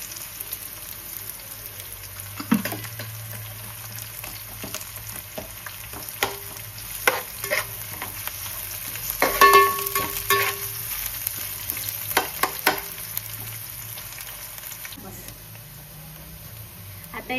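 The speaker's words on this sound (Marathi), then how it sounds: "कांदा मस्त शिजवून घ्यायचा आपल्याला तेलावरती" Onion frying and being stirred in oil in a home kitchen pan, a steady sizzle broken by scraping spoon strokes and occasional clatters, with a voice talking at times over the cooking.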